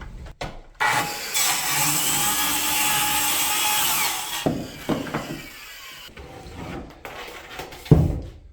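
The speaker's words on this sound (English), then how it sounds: "I'll need to drill in the screws." A power drill whirs steadily for a few seconds, then gives several short bursts with clicks and knocks in between as it drives screws, close and fairly loud.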